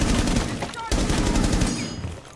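Gunfire in the video game Rainbow Six Siege during a house team deathmatch hostage round, a loud rapid burst of automatic shots, a brief gap, then more sustained firing that fades slightly.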